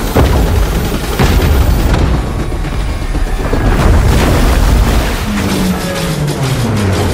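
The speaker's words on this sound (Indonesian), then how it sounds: "bom itu mulai meledak dan menghancurkan jembatan di depannya" Loud, rumbling blasts and crashing debris roar continuously as a bomb destroys a bridge in the film Mission: Impossible – Dead Reckoning, with deep booming bursts and sustained noisy wash throughout.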